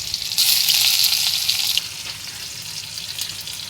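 Onions sizzle loudly in hot oil in a wok, a dense hissing fry that swells at first and then settles into a steadier, softer crackle, close up and with no talk.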